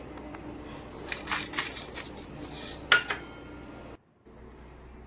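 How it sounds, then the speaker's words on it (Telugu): Spices, cashews and red chillies stirred in a frying pan over a medium flame for restaurant-style stuffed brinjal curry, giving close scraping and clinking against the pan under a soft sizzle, then a brief drop to silence. "ఇప్పుడు వీటిని కూడా బాగా కలుపుతూ ఉండాలి. బాగా వేగించాలి."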